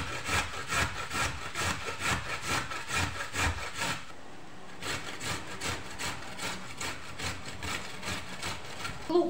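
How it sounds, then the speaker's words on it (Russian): Two small carrots rubbed against a coarse kitchen grater give close, steady, rhythmic rasping strokes, with a brief pause midway before the scraping resumes. "Две небольшие моркови буду натирать на крупной терке."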